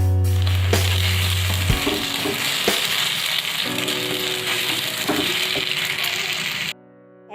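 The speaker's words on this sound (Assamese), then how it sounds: "এইফালে এখন ফ্ৰাইং পেনত মই কণী 2-3টা দিলোঁ আৰু কণীখিনি মই এনেকৈ ভাজি ল'ম, গুৰি গুৰি কৰি ল'ম।" Two or three eggs frying and being scrambled in a frying pan for egg chowmein, a loud continuous sizzle with scraping stirs, preceded by a low hum that cuts off early.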